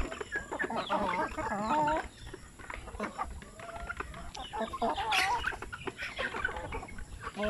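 About seven laying hens cluck and murmur continuously nearby, with a few louder squawks, over a busy farmyard background with faint voices.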